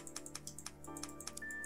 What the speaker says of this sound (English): Typewriter.